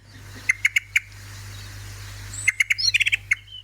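A Eurasian blackbird gives sharp repeated chip notes, a few single calls, then a quick rattling burst, close and clear over a quiet background.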